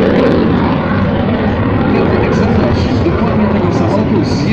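A Belgian F-16 fighter jet, modernized, built in 1988, at the Radom air show in 2018 gives a loud, steady engine roar throughout, with a crowd and talk mixed in underneath.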